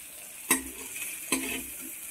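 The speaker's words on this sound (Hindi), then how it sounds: "इस तरीके से हमें फ्राई करके निकाल लेना है" Bamboo shoots frying with turmeric and salt in a kadhai, a steady soft sizzle broken by two sharp stirring scrapes of the spoon against the pan, close and moderately quiet.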